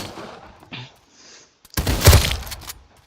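Gamepass weapons fire in a Roblox game: a faint early shot, then a loud, sharp burst of gunfire that decays over about a second, with no talk.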